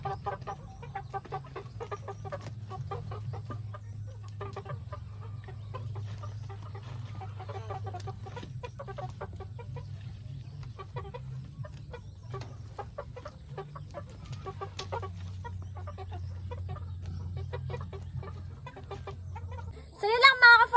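Shamo chickens on a farm cluck and murmur in a continuous low chatter, with sharper bird calls scattered through and a louder burst near the end over a quiet background.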